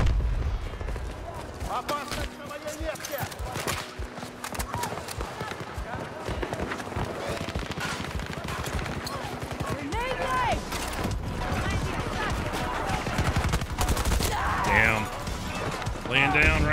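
Battlefield 2042 Frontlines combat brings rapid, dense gunfire in quick irregular bursts with thuds and impacts, close and busy, while players talk throughout.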